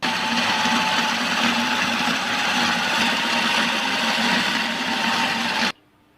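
A food processor whirring through minced meat with spices, a loud, steady motor drone that runs continuously, then cuts off abruptly near the end.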